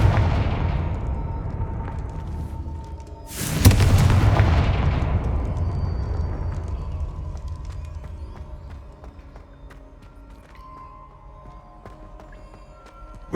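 A Confringo spell explodes in Hogwarts Legacy with a sudden loud blast that rolls out into a long, rumbling decay, layered over a steady low game backdrop.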